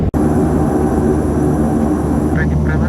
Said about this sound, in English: The engines are running already